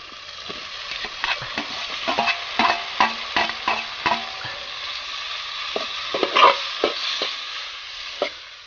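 Tomatoes and onions for chicken kadai are fried and stirred in a pan, heard as a run of sharp, close scraping clacks from the spoon over a quiet sizzle. The stirs come in irregular bursts and nobody speaks.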